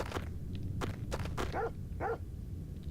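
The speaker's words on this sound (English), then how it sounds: "Woof woof. Barf, barf." Several short bright barks, two with a whining pitched tone, over a busy low background rumble; a dog barking in a Parasite Eve game scene, moderately loud.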